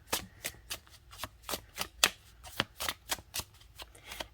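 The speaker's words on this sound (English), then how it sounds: "let me shuffle again." A deck of tarot cards is shuffled by hand in a steady run of about a dozen quick, crisp riffling slaps, close and clear with no voice over them.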